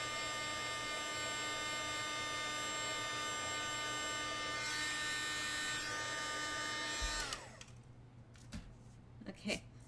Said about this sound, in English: So I'm going to take my heat tool again and add heat to that particular spot.